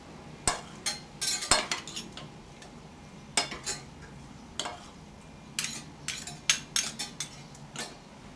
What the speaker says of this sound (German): Einmal hinein ins Öl und alles schön durchmischen